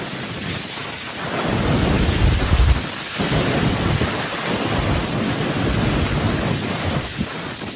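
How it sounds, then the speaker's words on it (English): A typhoon strikes coastal Guangdong, China, with heavy rain and strong winds: a loud, continuous roar of pounding rain and gusting wind buffets the microphone and swells in deep rumbles, with no voices. "bringing intense winds and rain across coastal communities"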